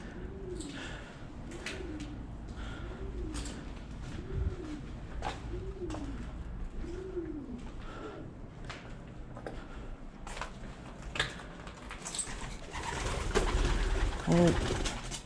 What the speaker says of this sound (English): Oh, sorry, pigeon.